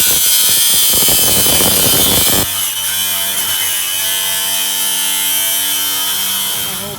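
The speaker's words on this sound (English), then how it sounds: "I have an angle grinder, and I'm going to go ahead and start cutting." An angle grinder cuts through aluminum HVAC duct for a basement furnace air return vent, a loud continuous grinding whine with harsh scraping that shifts tone partway through and runs steadily to the end.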